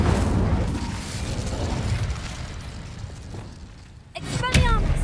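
The Incendio fire spell in Hogwarts Legacy gives a loud, sustained roaring rumble that eases off, then flares again in a short burst near the end, with a brief voiced sound.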